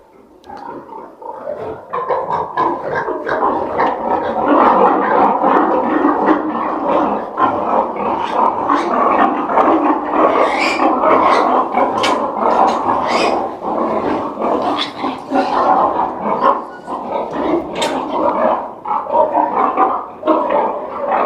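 Piglets grunt and squeal loudly while eating at a farm feeder, a dense, continuous chorus of overlapping snorts and chewing noises close by for the whole stretch.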